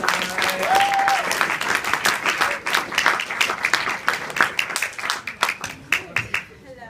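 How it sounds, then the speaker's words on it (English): Applause from an audience at a university chemistry show, many hands clapping steadily and fairly loud, thinning out toward the end. "just give a round of applause"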